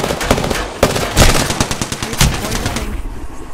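Rapid bursts of automatic gunfire from Halo Wraith gameplay crackle loudly and close, with repeated sharp volleys stacked throughout and a brief game voice line mixed in.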